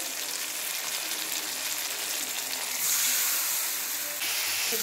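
Bottle gourd goes into a hot pan and sizzles in a home kitchen, a steady bright frying hiss that surges louder partway through, with no talking.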